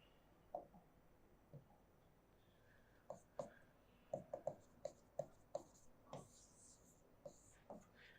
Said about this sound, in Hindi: तो यहाँ दूसरा मुद्दा मैं लिख देता हूँ